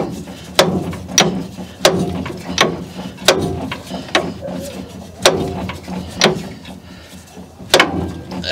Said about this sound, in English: now the pulley's going to release too